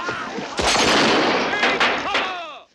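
Gunfire in the 1968 film if...., a cluster of sharp loud cracks and booms in quick succession, with echoing tails and some shouting mixed in.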